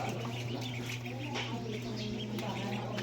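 Ducklings quack repeatedly at close range in a rural Mindanao yard, their busy chatter layered over a steady low hum.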